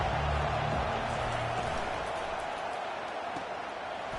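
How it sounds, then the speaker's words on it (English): A stadium crowd at a football game keeps up a steady, dense roar, a broad continuous wash of noise with no clear breaks across the few seconds. "This crowd bringing the energy and noise early."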